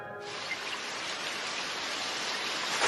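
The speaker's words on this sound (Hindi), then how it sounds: "कितनी तेज बारिश हो रही है आज" Heavy rain pours down as a dense, steady hiss that starts abruptly and swells slightly louder, with no voices over it.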